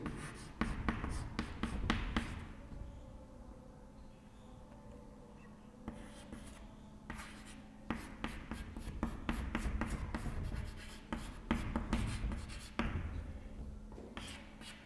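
Chalk or marker writing on a board during a history lecture: rapid, scratchy strokes in close bursts, pausing briefly between words, with faint room noise and no talking.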